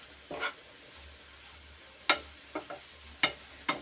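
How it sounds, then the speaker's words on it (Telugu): Bitter gourd frying with raw spice powder in a pan, giving faint sizzling with a few soft stirring scrapes and taps spaced irregularly, quiet and close, with no talk. "కొంచెం సేపు ఫ్రై చేసుకుందాం."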